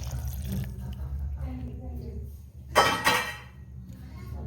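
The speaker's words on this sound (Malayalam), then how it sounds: "ആവശ്യത്തിന് വെള്ളം" Water is poured into a ground masala paste of spices and chilli powder in one short, close splash that follows a stretch of talking.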